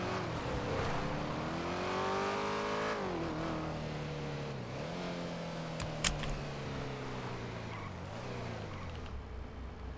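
Motorcycle engine in a video game, a steady loud drone that rises and falls in pitch as it revs and shifts, continuous for the whole stretch with a brief knock midway.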